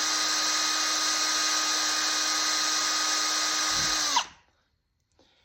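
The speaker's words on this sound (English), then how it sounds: "And so I'm just going to pre-drill right in the center here." A power drill pre-drills a hole into the center of a wooden workpiece, a loud steady high whine that holds for about four seconds, then spins down and stops, with a brief word spoken afterward.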